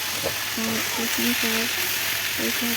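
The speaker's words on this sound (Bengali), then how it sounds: "এই যে ভাতটা ভাজছি" Continuous sizzle of rice frying in a pan, with a few tonal beeps or hums sounding over it.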